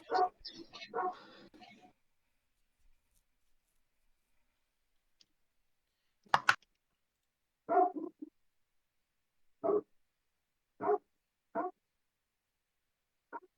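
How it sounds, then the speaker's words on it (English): A dog barks in the background of a voice call, a short cluster of yaps early on followed by a handful of separate, spaced barks, fairly faint against near silence. "is the dog from someone in the call or someone Yes. next door?"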